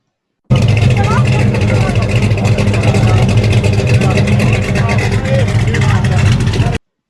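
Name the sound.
drag car with cammed pushrod V8 engine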